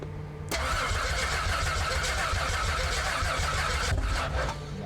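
A 1976 Ford Granada fitted with a swapped Barra engine cranks loudly and steadily for about three and a half seconds, a continuous churning roar near the mic that stops abruptly, with no catch or idle following.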